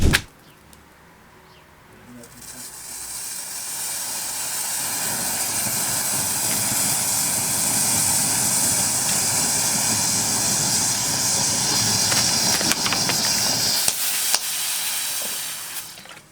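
A homemade sugar and saltpeter rocket fuel mixture ignites indoors and burns with a loud, steady roaring hiss lasting about twelve seconds before cutting off abruptly, after a quiet start.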